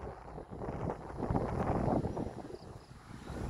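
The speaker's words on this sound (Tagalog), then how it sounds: "Hangin naman dito." Steady wind rushes and buffets against the microphone, a continuous low roar with no voices.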